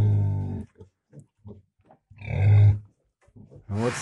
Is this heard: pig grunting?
yes